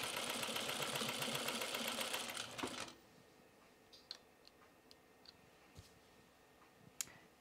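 A sewing machine fitted with a buttonhole attachment stitches a zigzag, its fast mechanical whir running loud and steady for nearly three seconds before stopping, after which only scattered faint clicks remain.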